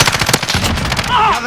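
Rapid automatic machine gun bursts in Call of Duty: Modern Warfare on the Talsik Backlot team deathmatch map, loud and close, with quick stuttering shots and a brief electronic game tone trailing after.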